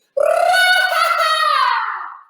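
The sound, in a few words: Mexican grito shout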